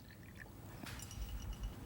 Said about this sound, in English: I'm going to put in there some distilled water, pure water. Water into this one,